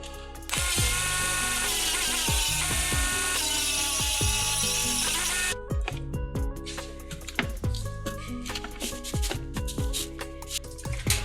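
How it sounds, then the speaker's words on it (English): A power tool whines loudly and steadily while cutting a tab off an aluminum battery tray on an RC crawler, then stops, followed by a series of sharp mechanical clicks and ratcheting sounds up close. "trim this battery tray before we get going with any of the electronics"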